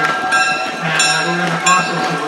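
A diesel-hauled tourist train runs on the Pine Creek Railroad, a steady mechanical rumble and rolling rail noise heard close by with a few brief tonal swells.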